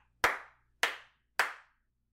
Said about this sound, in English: You accidentally set it to clapper mode, and it's three claps.